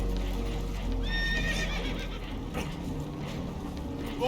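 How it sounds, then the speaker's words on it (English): Horses whinny and neigh in Red Dead Redemption 2 aboard a damaged boat, shrill rising calls over a low rumbling background, with clopping and faint muffled voices. "Horses are spooked"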